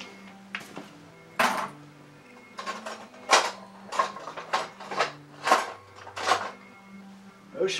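Metal cutlery and utensils clatter and clink in a series of sharp, separate bursts, as if someone digs through a kitchen drawer hunting for a spoon; close and fairly loud with short pauses between, no talking.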